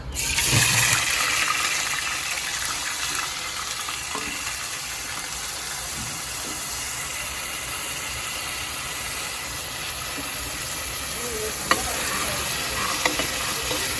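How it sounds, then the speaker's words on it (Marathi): Onion paste frying in hot oil with curry leaves, a dense steady sizzle that swells briefly at the start, under continual stirring with a single sharp clink of the utensil near the end. "आता आपण मस्त कांद्याची पेस्ट टाकूया त्याच्यात"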